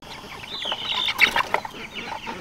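Jumbo Cornish Cross meat chickens, six-week-old broilers, clucking and chirping close by in short overlapping calls, getting a bit busier near the middle, with no talk.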